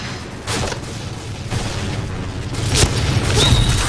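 Game explosions and gunfire in the shooter Point Blank, made of dull booms and scattered cracks building over about four seconds into a louder, denser rumble near the end, with no one talking.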